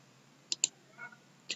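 Mouse clicks on a computer while running a program installer as administrator: two quick close clicks, a soft shuffle, then one more click, crisp and faint in a quiet room.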